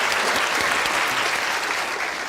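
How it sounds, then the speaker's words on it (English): An audience at a children's science lecture breaks into loud, dense applause, a continuous wash of many hands clapping close by, with no talk over it. "a round of applause for my daughter"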